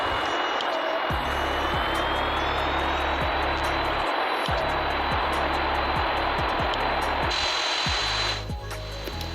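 A fixed-wing airliner in a flight simulator game on landing approach with flaps deployed toward Kenneth Kaunda International Airport, Lusaka: a loud, steady engine drone with a rising whine, repeated low thumps throughout, easing slightly at the end.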